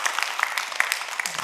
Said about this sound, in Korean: 이게 특별히 박수 한번 쳐주셔요